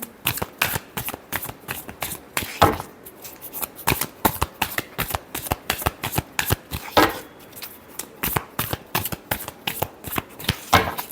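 Tarot cards are shuffled by hand in quick bursts of riffling flutters, close and crisp, repeating with short pauses between bursts, and no talk over them.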